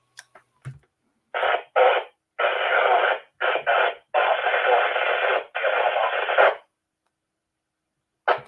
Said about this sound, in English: I had a station coming in there quite noisy